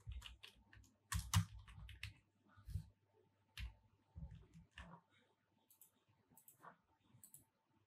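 Code for a vanilla JavaScript slider being typed on a computer keyboard: irregular close bursts of key clicks separated by short pauses.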